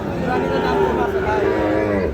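A cow at a cattle market gives a long, loud, close moo with a low drawn-out tone, faint crowd murmur in the background.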